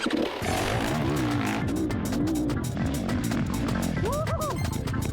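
A four-stroke motorcycle revs hard while climbing a steep hill, its engine note rising and falling continuously in loud, close, strained bursts with a high whine near the end, and the rider's voice faintly mixed in.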